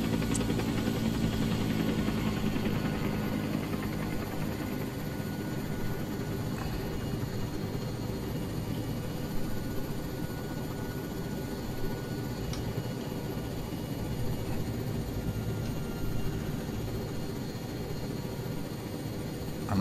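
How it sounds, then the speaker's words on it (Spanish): Helicopter flight in the military game ArmA 3, set over the Mekong Delta, a steady dense engine and rotor roar holding at constant level for the whole stretch without speech. "Está mal engrasado este helicóptero, está muy dura la palanca."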